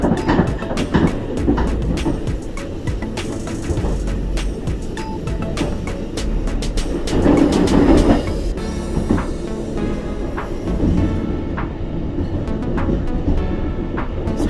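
Passenger train running on the Cikampek–Cirebon line near the junction toward Bandung, heard from on board: steady loud rumble with repeated sharp rail clicks and clatter, continuous throughout.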